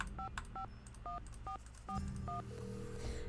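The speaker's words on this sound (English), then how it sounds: "She wanted me to call Franklin" Telephone keypad tones from a Nancy Drew mystery video game, a quick series of about seven distinct dial beeps in an irregular rhythm, clear and close, with no talking.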